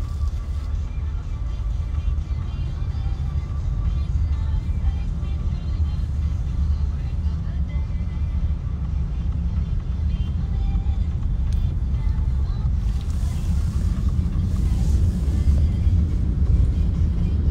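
A car drives along a snowy road, its engine and tyres making a continuous low rumble from inside the cabin, with faint hiss rising near the end.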